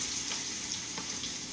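A small piece of onion sizzles in hot oil, giving a steady crackling fry with a few soft pops throughout, at moderate volume.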